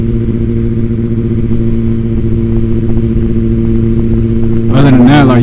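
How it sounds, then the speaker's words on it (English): Idling Suzuki GSX 1000cc motorcycle engine with a steady low hum, sharply revved by a throttle twist near the end into a loud rising roar. "the bike not gonna get away from you unless you just twist the fucking throttle"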